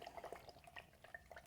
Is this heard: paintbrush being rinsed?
yes